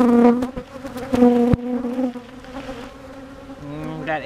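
Honey bees buzz close by during a beehive inspection of a box holding brood below and honey above, with a few loud passes that fade into a softer, steady hum.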